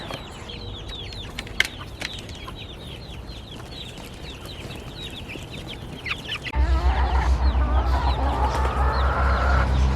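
Chickens cluck steadily with scattered chirps, and the sound grows louder and busier partway through as a low hum joins in.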